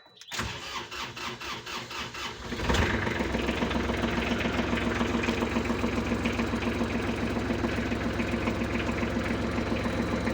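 A Kubota GL301 mini tractor engine cranks with a rapid starter rhythm for a couple of seconds, catches, and settles into a loud, steady, close diesel idle with a regular knocking pulse.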